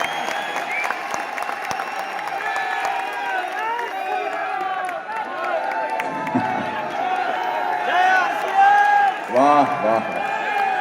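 A large audience at a motivational speech event in Delhi claps and cheers continuously, with scattered whoops and voices mixed into the sustained applause.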